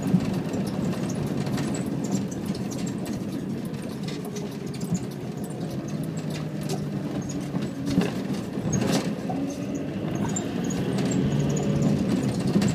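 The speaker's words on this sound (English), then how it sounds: "I have to apologise about the noise in this van." Steady engine drone and road rumble inside a moving Iveco Daily van, with loose fittings squeaking and rattling throughout, a continuous moderately loud noise with no speech.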